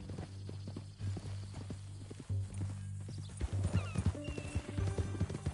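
Horse hooves clip-clop at a steady walking rhythm in Red Dead Redemption 2, fairly close and clear over a low hum of game ambience, with a brief whinny near the end.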